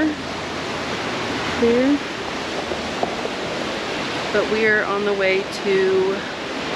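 Rushing river water outdoors in the Rocky Mountains makes a steady, broadband roar that fills the whole clip, with voices talking over it throughout.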